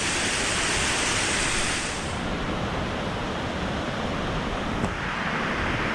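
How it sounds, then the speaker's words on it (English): A mountain waterfall in late autumn, heard as a steady, dense broadband roar of falling water that stays constant throughout with no voices. "In the winter or early spring, I imagine this is huge, this waterfall."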